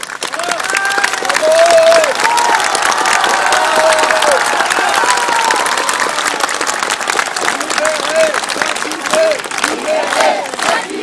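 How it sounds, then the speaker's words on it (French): Sustained, loud audience applause filling a hall at a rally, dense clapping with cheering and shouted voices rising through the crowd, continuing unbroken for the whole stretch. "tout ce soutien et tous ces applaudissements"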